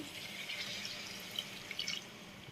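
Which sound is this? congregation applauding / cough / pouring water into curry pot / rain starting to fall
pouring water into curry pot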